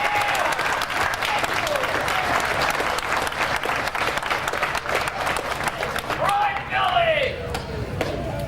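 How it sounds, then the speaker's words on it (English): Crowd at a 1991 Goodguys car show applauds an award winner, the dense clapping sustained and loud throughout, with a few whistles near the end. "How about a big round of applause for this guy"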